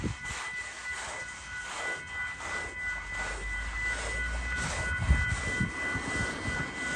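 A train rumbles past in a village, a steady rolling roar sustained throughout at moderate distance with some scattered background noise.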